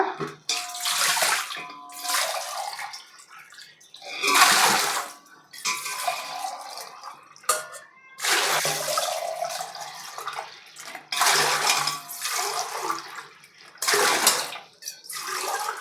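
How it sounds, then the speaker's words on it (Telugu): Water poured from a small metal pot in repeated bursts into a cooking pot, each splash and gush lasting a second or two with short pauses between pours. "ఒక చెంబుకి ఆరు చెంబులు వాటర్ పోస్తున్నాను"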